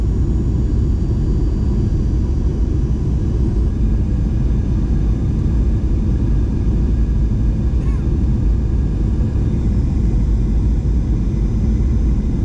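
Steady, loud low cabin rumble inside a Garuda Indonesia airplane after landing at Sultan Hasanuddin International Airport, a continuous engine and rolling roar with a faint high whine throughout.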